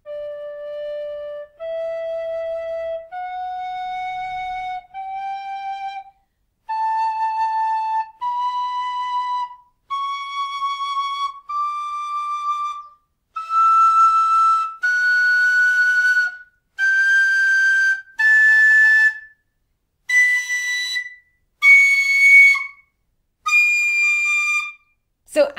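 A high D pennywhistle, a Mellow Dog Jerry Freeman model, plays a slow ascending run of separate notes, each held briefly, climbing steadily in pitch with short breaths between them.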